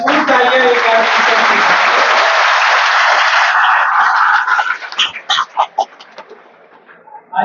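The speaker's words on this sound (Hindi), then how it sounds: "भरपूर तालियां एक बार" An audience at a spiritual stress-management gathering bursts into loud applause that holds for about four seconds, then breaks into scattered claps and dies away to near silence, with a brief voice at the start.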